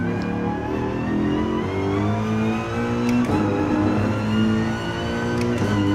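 Race car in Gran Turismo Sport at the Nurburgring accelerating hard, a loud engine wail climbing through the revs with quick gear shifts in a repeating rise-and-drop pattern.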